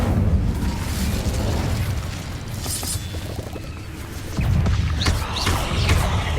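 Fiery Incendio spell blasts from Hogwarts Legacy on PS5, a dense roaring burst that swells at the start and surges again midway, loud and close over a rumbling game backdrop.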